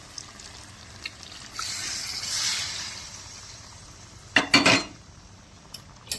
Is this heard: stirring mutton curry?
yes